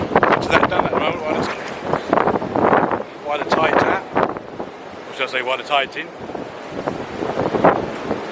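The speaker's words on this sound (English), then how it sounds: "Very, very, very windy here." Strong gusts buffet the microphone on the beach at Half Moon Bay, loud rumbling bursts that rise and fall beneath someone talking throughout.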